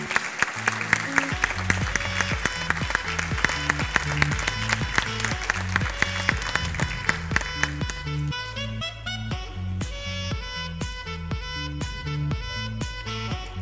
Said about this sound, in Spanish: un fuerte aplauso al egresadito